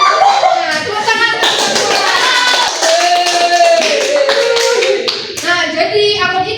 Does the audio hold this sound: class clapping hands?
yes